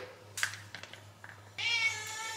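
A hungry cat meows insistently indoors, a sharp cry followed by softer calls and then a long, loud drawn-out meow close to the listener, over a low steady hum.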